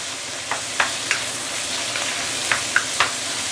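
Fish being squashed in a frying pan for milky fish soup, a constant loud sizzle broken by several sharp scraping taps of a utensil.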